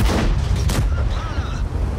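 Tank shell ricocheting off armor in World of Tanks, a sharp metallic boom with a brief ringing whine trailing off, loud and close, followed by faint battlefield rumble.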